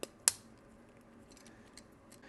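Plastic door trim on a VW Samba sliding-door panel is pressed into place with a single sharp snap near the start, preceded by a faint tap, then quiet room hiss.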